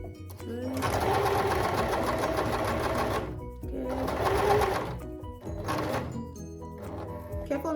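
Sewing machine stitching fabric beside an elastic band for a drawstring ponytail, running in two long steady bursts with a pause between, then a shorter burst of stitching, loud and close.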